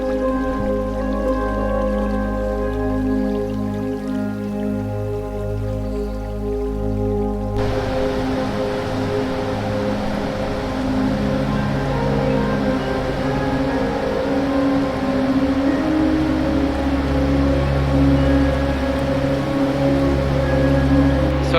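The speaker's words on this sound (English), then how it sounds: "This is Cumberland Falls." Cumberland Falls waterfall in Kentucky, a continuous loud roar of rushing water that fills the whole stretch, steady and unbroken with no voices.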